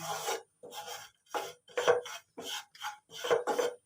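Gram flour (besan) being stirred as it roasts in a pan, a close, dry scraping rasp in about six short strokes with brief pauses between them.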